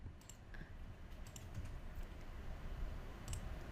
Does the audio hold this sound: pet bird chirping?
no